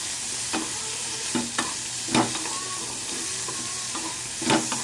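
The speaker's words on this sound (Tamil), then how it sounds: "பீர்க்கங்காய் நல்லா வதக்கணும்" Chopped ridge gourd sautés in a pan with a continuous soft sizzle. Periodic scraping stirs of a spoon punctuate it, close and unhurried, with no talking.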